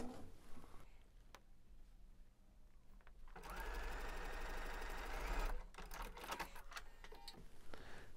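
Sewing machine stitching quilt block binding: a rapid, even mechanical whir runs for about two seconds at close range, with quieter handling and slower stitching before and after.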